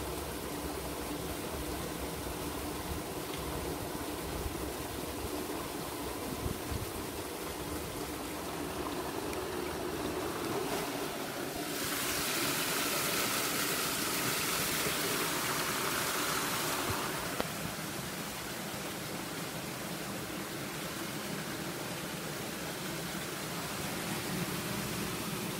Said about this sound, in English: That's the river there.